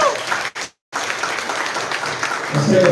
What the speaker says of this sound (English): Put your hands together, give another round of applause